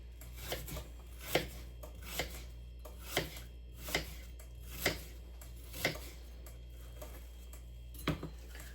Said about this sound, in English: Now I'm going to go through and cut this way.